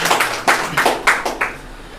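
A church congregation at a Sunday morning service claps for the worship team: a bright, scattered round of hand claps with several louder bursts, close and fairly dense, fading out toward the end.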